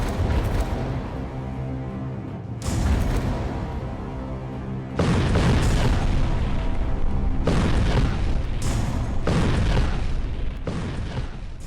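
Bomb blasts hit a 7-metre-wide concrete wall in a weapons test. Several heavy booming bursts sound at intervals, each with a broad roar that fades, and no voices.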